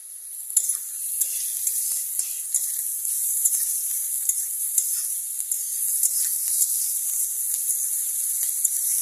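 Mushrooms fry in a generous amount of oil, giving a steady, bright sizzle with small crackles and pops throughout, close and continuous with no talking.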